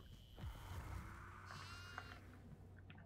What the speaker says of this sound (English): There's a goat baby.